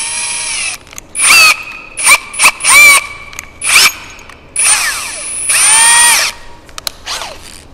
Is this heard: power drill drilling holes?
yes